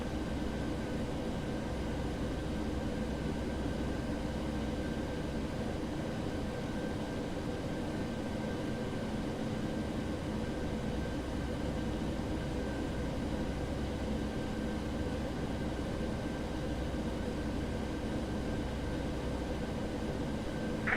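A Boeing 737-800 on its takeoff roll down runway 36 at Paris Vatry in a flight simulator, a steady, dense engine roar with a faint constant tone that holds evenly throughout.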